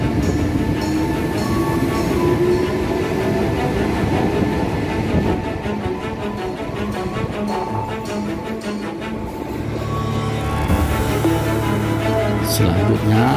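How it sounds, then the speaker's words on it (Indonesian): A train rumbles and rattles steadily nearby as it rolls through Depok Baru station near Jakarta, wheels clattering and metal screeching, the noise shifting to a lower hum toward the end. "Ini dia kereta tengah berjalan melanjutkan perjalanan."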